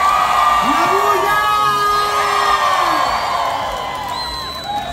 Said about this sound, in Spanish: ¡Los aplausos! ¡Los gritos! ¡La bulla!